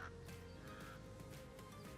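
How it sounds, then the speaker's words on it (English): Crows calling overhead at an outdoor shooting range, harsh repeated caws carrying over a steady loud background of wind and ambient noise. "I don't know if you hear that, but the crows, look up there"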